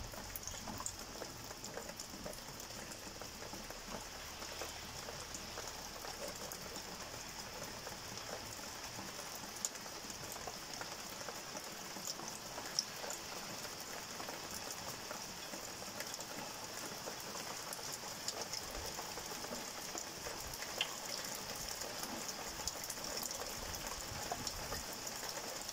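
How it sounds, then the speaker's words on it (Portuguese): Heavy rain pours steadily at night during a thunderstorm, a dense continuous hiss of drops on surfaces without pause for the whole stretch, no thunder clap standing out. "A chuva é bem grossa."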